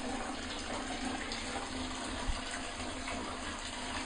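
A Lush bath bomb fizzes and dissolves in bath water, giving a steady, close hiss of bubbling water that runs evenly throughout with one soft splash partway through.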